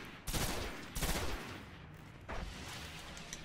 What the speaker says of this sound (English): because it is a pulse rifle with the ability to go fully automatic